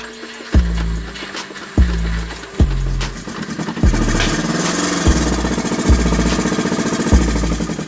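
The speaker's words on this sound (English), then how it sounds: "My car is actually idling right now." A broken Subaru engine idles roughly nearby on a dyno, punctuated by loud periodic knocks every second or so, with a steady rattling drone underneath.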